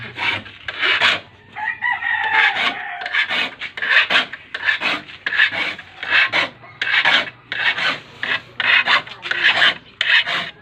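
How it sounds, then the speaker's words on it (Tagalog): Repeated rasping strokes of a file sharpening a wood saw, steady back-and-forth rhythm, close and fairly loud, with a faint background hum. "Hindi basta ang pag-asa ng lagari."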